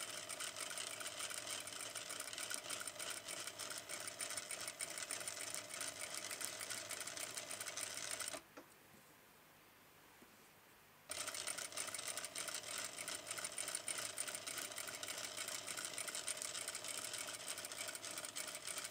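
A sewing machine stitches a neckline finish with a bar tack, a fast steady close whir that stops briefly for a few seconds and then resumes just as evenly.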